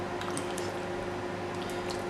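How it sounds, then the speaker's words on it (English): Wet squishing as goraka spice paste is worked into pieces of fish by hand for Sri Lankan sour fish curry, a steady soft squelching that stays close and continuous. "So now let's put the paste into the fish"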